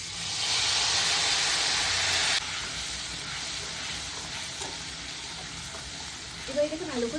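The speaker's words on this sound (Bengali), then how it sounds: "এবার এটাকে ভালো করে ভেজে নিতে হবে।" Ground sesame and green chili paste sizzles loudly in a hot pan, a bright frying hiss that drops to a steadier, quieter sizzle partway through, with a brief voice near the end.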